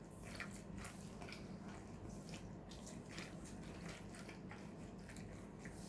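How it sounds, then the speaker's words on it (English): Milk kefir grains are pressed and worked in a plastic strainer over a bowl, making soft, continuous squishing and wet dripping sounds. Faint and steady, with no talking. "So basically just work the grains so that the milk can just strain out as much as possible to the bowl."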